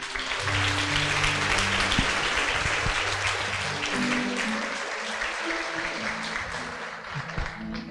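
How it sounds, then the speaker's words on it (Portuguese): Church congregation applauding during a family worship service: dense, steady clapping from many hands fills all eight seconds at a loud level, with faint musical tones underneath. "Aplauda ao Senhor."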